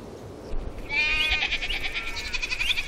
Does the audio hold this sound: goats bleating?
yes